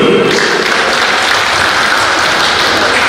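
Steady applause from a gathered audience at a community association installation and anniversary celebration, continuous loud clapping for a few seconds without speech.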